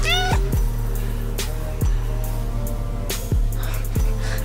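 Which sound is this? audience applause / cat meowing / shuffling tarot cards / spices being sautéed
cat meowing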